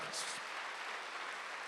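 A church congregation at a Wednesday worship service claps together in a brief, steady burst of applause heard from within the hall, with a voice faintly present.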